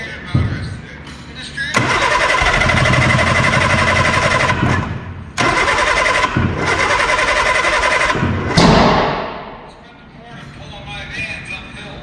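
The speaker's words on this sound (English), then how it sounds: "Get some good cranking on it, maybe it will." A 1960s-style Austin Healey Sprite engine, left sitting for about 40 years, cranks over repeatedly on its starter in loud, sustained bursts with brief pauses between them, without clearly catching.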